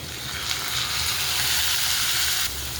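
Green chili and tomato hit hot oil in a pan, with a steady close sizzle and hiss that swells briefly and holds for a few seconds before easing slightly.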